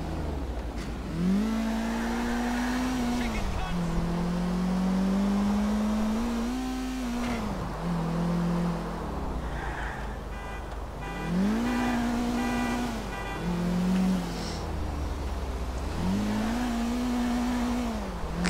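A car engine in Grand Theft Auto IV drones and revs repeatedly as the car is driven. The pitch rises and falls in regular waves, as if through gear changes, steady and close with no talk.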